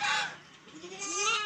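Goats bleat nearby, two wavering cries close together, fairly loud with no other sounds.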